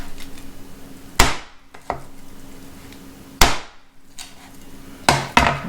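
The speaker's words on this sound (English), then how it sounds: "sometimes it's not easy to cut through the bone, especially if you don't have a good knife" Three heavy knife chops through chicken bone on a cutting board, sharp loud cracking strikes spaced a couple of seconds apart with lighter follow-up knocks, close and clear against a quiet background.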